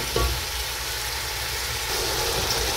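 A stew base with salt gently simmering in a pot gives a soft, steady sizzling hiss, faint and continuous with a few small pops.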